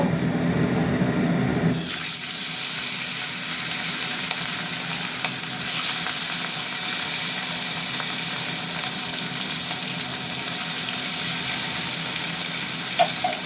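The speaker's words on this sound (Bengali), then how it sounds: "এবার অন্য মাছ দিয়ে দেবো।" Pieces of fish drop into hot oil and set off a sudden surge of loud sizzling, which then settles into a steady close crackle with no talk.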